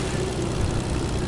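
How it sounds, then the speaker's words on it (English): A video game airplane's propeller engine drones steadily at close range, a low, even hum with no talking over it. "There's an airplane here too."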